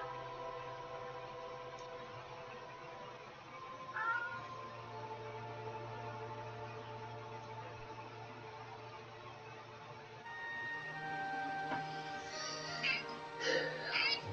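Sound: cat meowing for attention

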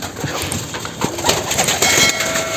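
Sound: pigeons in a loft

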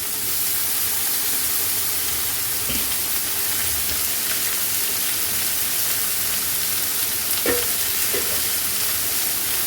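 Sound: ginger and green chili sautéing in pan

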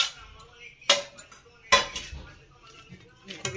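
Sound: mixing dry fruits in a pan with a utensil

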